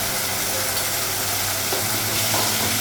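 Spices fry in a pan with a continuous loud hiss and sizzle, joined by a light scrape of stirring near the end, with no one speaking.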